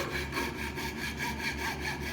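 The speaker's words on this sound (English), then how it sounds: "I tilted the saw to start getting it out of the way" Hand saw cutting tulip wood, a rapid, even back-and-forth rasp of steady strokes, close and continuous, with no voices.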